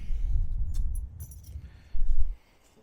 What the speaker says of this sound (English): Let me grab the keys for us.